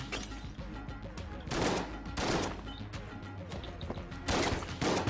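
Bursts of rapid gunfire and bullet impacts in Enter the Gungeon come in several loud clusters of crackling shots, with a voice faintly under the action.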